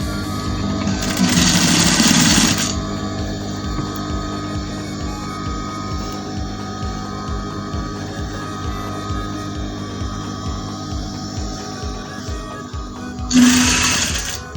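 A sewing machine stitches fabric for boys' African tops in two short loud bursts near the start and end, with a steady mechanical whir and quieter rhythmic ticking in between.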